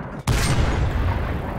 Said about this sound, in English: So I'm just firing wildly